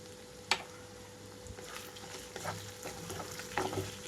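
Chicken pieces frying with spice powder and chili over low flame give a soft, steady sizzle with a sharp clack early on and several light stirring scrapes.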